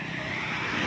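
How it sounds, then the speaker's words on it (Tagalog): A car drives slowly onto a roadside farm lot in Magdalena, its steady engine hum close and continuous for the short moment, with no talk over it. "Tapos pasok na po yung sasakyan dito."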